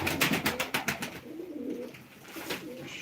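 Pigeons at a live pigeon auction coo and flutter in quick repeated bursts, close and fairly loud, then a lower steady cooing carries on underneath.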